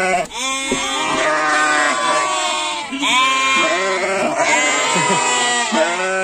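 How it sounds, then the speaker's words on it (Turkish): Ewes and lambs reunited in a barn bleat loudly and continuously, many calls overlapping in a dense, insistent chorus close to the listener. "Kuzulu koyunlar kuzularıyla buluşacak."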